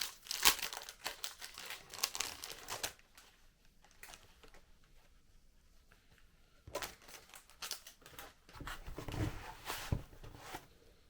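A plastic packet from a BIQU Panda Status Bar kit crinkles as it is opened and handled, bursts of close crackling at the start and end with a quieter stretch between.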